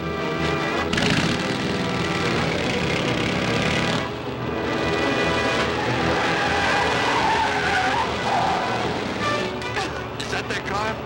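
A car skids in a 1941 crime film, a loud continuous screech of tires over a roaring engine that lasts the whole stretch, mixed with voices and other scene noise.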